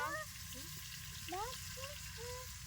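Pieces of fish coated in masala frying in a pan, making a continuous hissing sizzle, with a voice speaking faintly over it.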